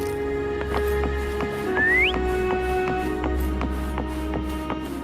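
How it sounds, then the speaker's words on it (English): A rising whistle to call Foam in the video game Wuthering Waves, one short upward-sliding tone over steady game music and ambience, no talk. "Try whistling."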